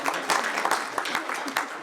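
A corporate presentation audience gives a quick round of applause, a short burst of dense clapping at moderate volume.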